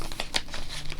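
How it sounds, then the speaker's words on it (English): Plastic packaging crinkles close by in a short burst of sharp rustles and crackles, with no talking. "Sorry, I'm crinkling."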